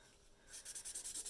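A marker scribbles on paper at an art desk, a quiet start followed by a run of quick rhythmic back-and-forth strokes, close and soft.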